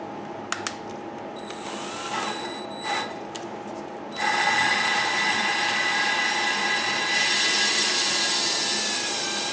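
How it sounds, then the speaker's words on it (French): A power drill turns while working on a 2012 Nissan Versa, a thin, steady whine that starts after a few faint clicks and taps, then runs loud and continuous to the end. "Et avec la perceuse"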